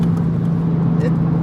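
A 6870 MK5 Toyota Supra runs through a custom MK4 Supra exhaust, giving a steady, close, low droning engine note that holds evenly throughout, with brief faint voices around it.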